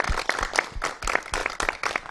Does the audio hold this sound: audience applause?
yes